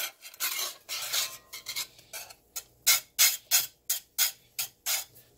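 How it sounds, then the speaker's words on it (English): Cheese being stirred into a sauce in a pot for potato soup with dill, a spoon scraping and clinking against the pot in a regular rhythm of short strokes, close and clear without talk. "Sprinkle it over the sauce. You just got to kind of stir that in there."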